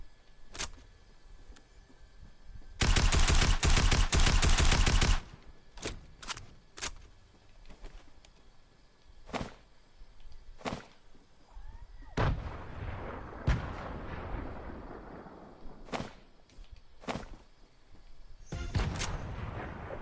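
Video game battle sounds: a long loud burst of gunfire followed by scattered single shots and a booming grenade blast with rumbling tail, then more sporadic sharp shots.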